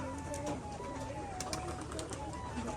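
Pigeons from a Rajshahi loft of colour-matched Giribaz pigeons being released, with soft cooing and flutter over a steady background and a faint voice at times.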